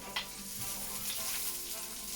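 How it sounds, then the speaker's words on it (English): Chopped onion frying in a pan until brown makes a constant dense sizzle, close and even, with a brief stir scrape near the start and no voices. "Now the onion turns into brown."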